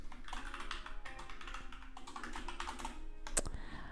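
Typing on a computer keyboard while working in FreeCAD design software: quick, close clicking keystrokes in irregular bursts, fairly quiet, with no talking.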